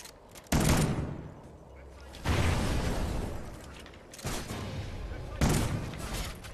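Gunfire in the video game Call of Duty Ghosts: loud bursts of rapid shots arriving in several separate volleys with brief lulls between them, dense and close.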